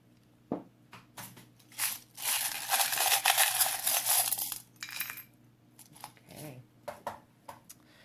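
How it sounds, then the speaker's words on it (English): Tarot or oracle cards shuffled for a pick-a-card reading, a dense riffling burst of papery crackle lasting a couple of seconds, with lighter card taps and handling noises before and after, close by and alone. "Shuffle them up."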